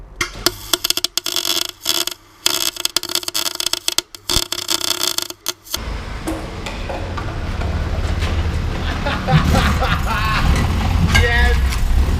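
A car with a welded differential drives off after a choppy stretch of bangs and wind buffeting, then settles into a steady, rumbling engine and tire roar that grows louder, with excited voices over it.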